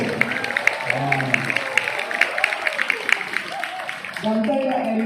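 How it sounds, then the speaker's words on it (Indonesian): Scattered audience applause at a scout ceremony at a high school, steady clapping heard under someone speaking loudly over a PA and a few voices. "Tepuk tangan sekali lagi"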